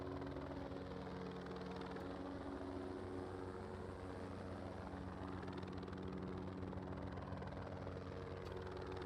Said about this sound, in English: that's a heli